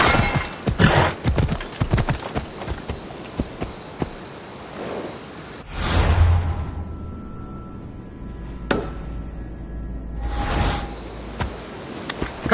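Ariel, a brown horse, clip-clops along with close, irregular hoof strikes in bursts, separated by quieter stretches of outdoor background; no one speaks.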